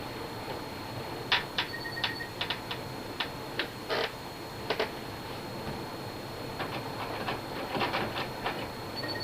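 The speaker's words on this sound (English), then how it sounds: "Now we're going to sew, and we're going to start the seam right there where that little pouch is." A sewing machine runs a straight-stitch quarter-inch seam on a fabric surgical cap, heard as a faint, quick ticking and clicking in short irregular bursts over a low background hum.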